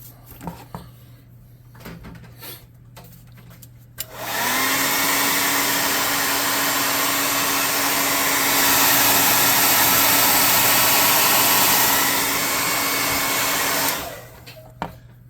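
A hair dryer drying a painted animal-skin craft prop for a tabletop game shanty build runs steadily and loudly for about ten seconds after a few soft handling knocks, then cuts off.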